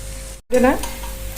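Onion chutney pressed and roasted in a hot pan, a brief scrape and press against the metal over a low steady sizzle, after a momentary cut to silence.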